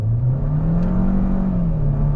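A 2021 Kia K5 GT-Line sedan with an 8-speed transmission accelerates on throttle with traction control off. Its engine gives a loud, steady drone that rises gently in pitch and then levels off, heard alone with no voices.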